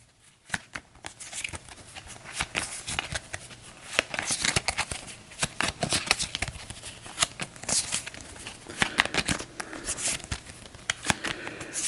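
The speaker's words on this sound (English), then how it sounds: "let's grab the turn order deck. And we'll give this another shuffle." A turn order card deck for the Astro Knights Eternity board game being shuffled, with dense repeated riffling and snapping of cards, close and fairly loud for the whole stretch.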